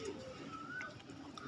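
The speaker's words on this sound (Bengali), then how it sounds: "জালালি কবুতর কিন্তু মানুষের খুব কাছে চলে আসতেছে খাবারের কারণে" Jalali pigeons cooing softly close by, a low murmuring coo repeated over a steady background with faint bird chatter.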